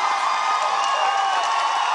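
A studio audience at a talk show roars with sustained cheering and applause, a dense, loud, continuous wash of clapping and whoops with no gaps for its full length.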